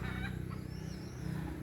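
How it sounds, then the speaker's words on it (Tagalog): Chickens wander around palay, unhusked rice, spread out to dry in a rural province yard. A few faint, brief clucks sit under a steady, loud background hum. "kasi may mga manok pupunta dito"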